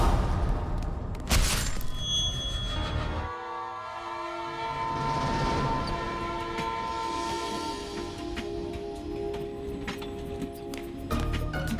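A train rumbles past a station with a loud horn blast and steady rolling clatter, the roar swelling and holding close for several seconds.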